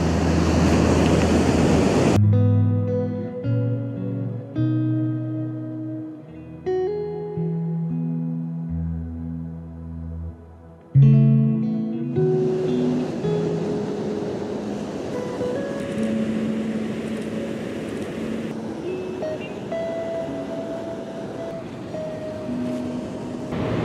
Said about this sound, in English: the tide comes in here very, very quick